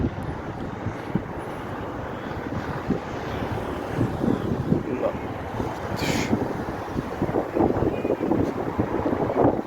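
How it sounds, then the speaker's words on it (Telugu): Strong wind gusting through a flowering garden in Al Ain, Dubai, with trees swaying, a steady broad roar with buffeting against the microphone throughout and no clear voices. "గాలి తుమారం లేచింది ఇక్కడనైతే చెట్లు అన్నీ ఊగుతున్నాయి"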